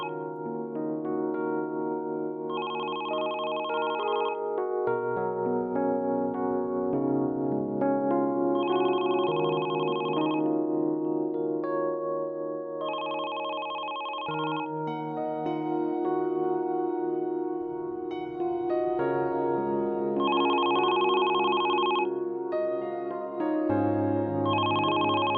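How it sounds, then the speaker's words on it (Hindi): A telephone ringing indoors in a domestic drama scene, repeated electronic ring bursts with a melodic ringtone pattern, loud and close, continuing for a long stretch with no talk. "फोन बज रहा है।"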